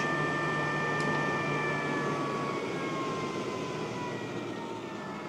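A laser air purifier fan winds down in standby mode, a steady whirring hum with thin whining tones that slowly drop in pitch and fade slightly over a few seconds.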